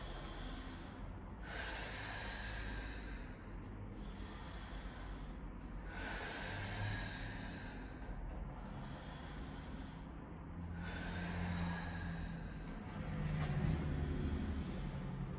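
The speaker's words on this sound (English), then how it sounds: "So you go ahead and exhale as you go down. Inhale on the way up." Slow, deep breaths during a low back pain exercise, long audible exhales and inhales repeating in a steady rhythm every few seconds, close to the mic over a continuous low background hum.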